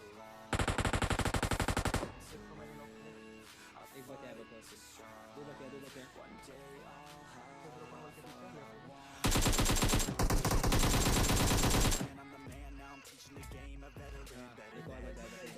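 Two long bursts of rapid automatic gunfire from the PUBG video game, loud and continuous, with quieter game sound and a talking voice in the stretch between them.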